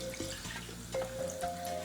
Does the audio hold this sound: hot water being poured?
yes